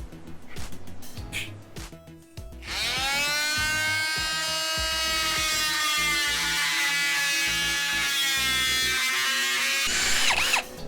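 A power drill bores small holes while a weight access door is built for a wood window, a steady high-pitched whir that runs for about eight seconds after some brief handling noise.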